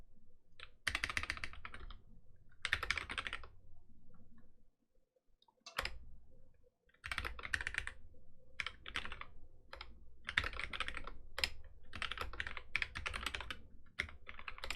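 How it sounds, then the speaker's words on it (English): Fingers typing a password on a computer keyboard, quick bursts of close, crisp key clicks separated by short pauses, with no voices. "I started typing."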